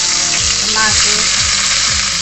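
Tomato sautéing in hot oil with garlic and onion for a pork pochero. It makes a steady, close, loud sizzle throughout, with a faint low tone repeating underneath.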